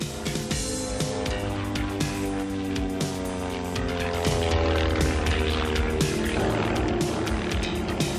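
An old propeller plane doing aerobatics drones continuously nearby, its engine note steady and loud with slight pitch changes as it passes.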